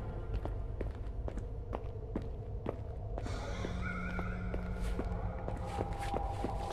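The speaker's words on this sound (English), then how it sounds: "Just go listen for the footsteps" Footsteps in the horror game Apsulov: End of Gods land as faint, evenly spaced thuds over a low ambient drone, joined partway by a quiet tonal hum.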